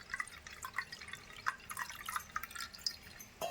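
Cardamom tea powder pieces being rinsed with water, heard as quiet intermittent drips and trickles with small splashes over a low background hiss, close by.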